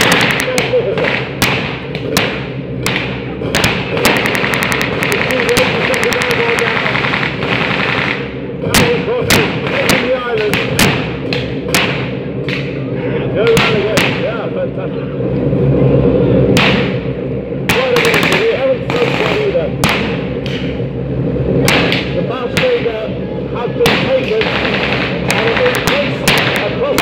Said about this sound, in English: There's a constant submachine gun going off as we speak.